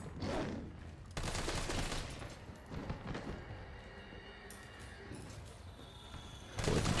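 Gunfire in the Resident Evil 3 Remake video game, bursts of rapid shots with dense crackling volleys, fairly close but modest in level, over a busy game soundscape.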